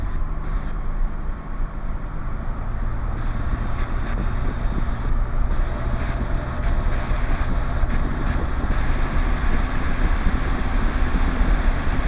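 A light aircraft engine running steadily at about 4,000 RPM during pre-flight checks, a loud continuous drone with wind buffeting the microphone throughout.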